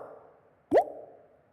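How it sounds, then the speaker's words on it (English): A single short water-droplet plop used as the default Xiaomi MIUI 10 phone notification. It is a clean rising bloop heard alone, followed by a brief fading resonance. "we are using the same water droplets as our default notification in MIUI 10"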